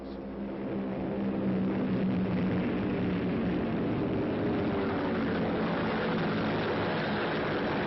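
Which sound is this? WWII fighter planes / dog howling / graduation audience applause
WWII fighter planes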